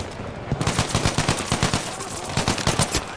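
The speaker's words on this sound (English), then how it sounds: "I need to start tap firing it in like longer ranges" Rapid tap-fired gunshots from a rifle in Battlefield 5 conquest multiplayer, a steady stream of short sharp cracks in quick bursts, loud and close throughout.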